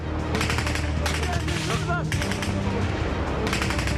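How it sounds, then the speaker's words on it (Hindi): Rapid bursts of gunfire in Afghanistan crackle in dense volleys, loud and continuous, with a low rumbling background and brief pauses between clusters of shots. "गोलियों की तड़तड़ाहट,"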